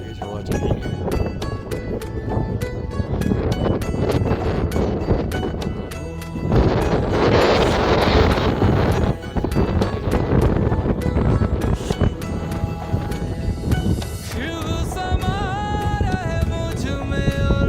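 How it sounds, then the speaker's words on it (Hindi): Strong wind at Kailash, at 16,500 feet, roars and buffets the microphone in heavy continuous gusts for the whole stretch, loud and close. A voice talks intermittently beneath it. "बहुत तेज हवा चल रही है।"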